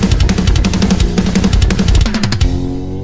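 A raw, unmixed metal band mix before compression plays loud and dense, with pounding drums, distorted guitars and a ringing final chord that decays at the end.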